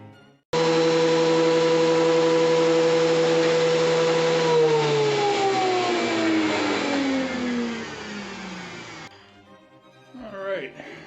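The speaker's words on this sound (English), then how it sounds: "let me get this thing set up, and we'll start planing away." Powered planer shaving down a wooden fretboard blank: a loud, steady motor whine starts abruptly, runs for about eight seconds with pitch sliding downward as it spins down, then cuts off, leaving faint handling noise.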